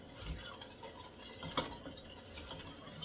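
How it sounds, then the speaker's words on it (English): A spoon stirs ingredients into a pot during home Christmas dinner cooking. The scraping and swirling is soft and continuous, with one brief louder knock in the middle. "if I stir this in"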